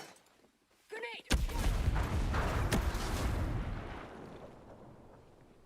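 A grenade goes off in Ghost Recon Breakpoint with a sudden loud blast, then a long rumbling roar that fades over several seconds, after a brief shouted voice.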